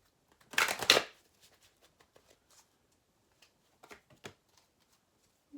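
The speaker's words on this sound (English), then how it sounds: "Let's just do a big girl shuffle" A deck of oracle cards shuffled by hand, a brief burst of riffling up close followed by a few soft, quiet card taps and rustles.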